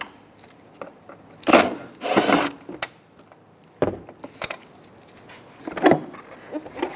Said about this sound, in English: Phillips screwdriver.